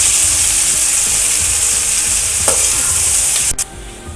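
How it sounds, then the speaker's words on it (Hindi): Onions frying in oil, a loud continuous close sizzle with stirring, a sharp clink near the middle and a spoon knock before the hiss drops slightly at the end; no talking. "उसी ऑयल में इसको फ्राई कर लेते हैं"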